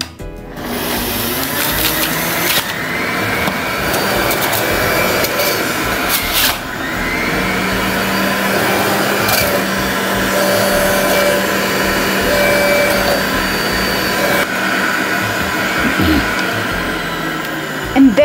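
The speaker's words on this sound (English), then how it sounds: "I'm gonna add my apples right in and quickly puree the juice" Electric juicer whirring steadily as it purees fresh Granny Smith apples in a home kitchen, a loud continuous motor drone with grinding texture that holds throughout.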